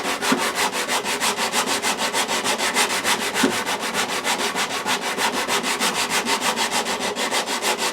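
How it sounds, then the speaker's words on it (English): Hand-sanding a wooden guitar neck: steady, rhythmic back-and-forth rasping strokes of abrasive on wood, close and loud, repeating evenly throughout with no talking. "I usually kind of sand on an 8 count."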